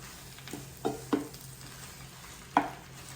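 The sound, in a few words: spinach sizzling as it cooks down in a pan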